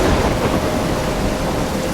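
A thunderstorm in the video game Life Is Strange pours down heavy rain in a loud, unbroken roar, with deep rumbling mixed into the dense wash of water.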